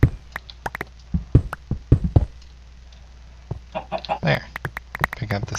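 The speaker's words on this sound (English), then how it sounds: "Got a feeling that chicken's gonna fall down here any minute." Minecraft chickens cluck in short, sharp bursts scattered through the clip, mixed with blocky knocking and digging sounds as sand is dug out, with a denser cluster of game noises toward the end.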